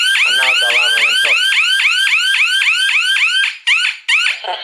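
A GSM alarm system siren wails loud and close in rapid repeating rising sweeps, sounding continuously before cutting out in a few short bursts near the end.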